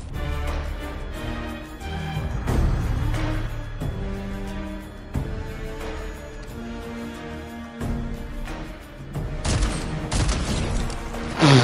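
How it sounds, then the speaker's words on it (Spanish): Shotgun firing in Fortnite during a Season 2 match with Cerberus's mythic shotgun, a string of repeated sharp blasts over game music and effects, fairly loud with a steady irregular rhythm. "la escopeta pega bastante rápido"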